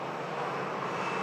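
A Norse Boeing 787-9 Dreamliner jet runs its engines at Manchester Airport, a brief, steady whooshing roar heard alone at moderate loudness.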